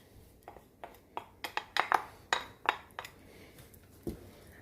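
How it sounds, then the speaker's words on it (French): Pasta with merguez sausage and mushrooms being stirred in a pan gives a string of light, irregular clinks and taps of utensil against cookware, close and fairly quiet, with no talking. "Je mélange le tout"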